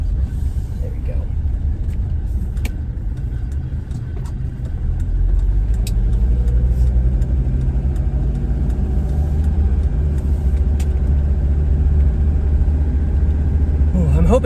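A car engine hums and rumbles steadily from inside the vehicle while driving, a constant low drone that swells slightly as it picks up speed, with faint clicks and knocks over it.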